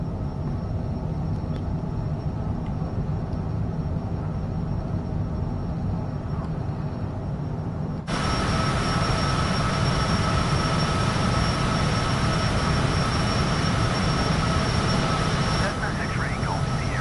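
A Cessna takes off in Microsoft Flight Simulator 2024, a steady engine drone that jumps to a louder, fuller roar partway through. A voice talks over the continuous engine noise.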